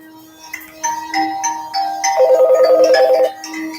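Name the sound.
telephone ringing on radio call-in show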